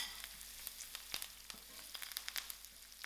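Garlic and curry leaves fry in hot oil in a pan for a vada pav base, giving a steady close-up sizzle with sharp crackles and pops scattered throughout, no voices.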